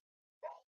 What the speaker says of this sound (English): If you hear Captain Jack how he's barking now, his bark has changed.